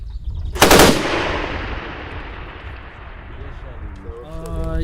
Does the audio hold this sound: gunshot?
yes